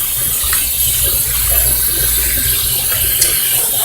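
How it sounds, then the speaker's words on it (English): Tap water running steadily into a sink basin holding mustard greens, a continuous loud close rushing splash with no pauses. "I still have the water running until I get to the height that I'm ready to let it stop"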